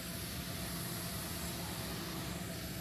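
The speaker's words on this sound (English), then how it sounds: "Big ass plane." Steady airplane engine drone inside the cabin of a large aircraft on a six-hour flight to Riyadh, a constant broadband roar with no break and no voices.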